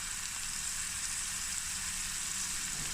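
A mussel stir-fry sizzles steadily in a hot pan as black pepper is added, a constant close hiss with no talk.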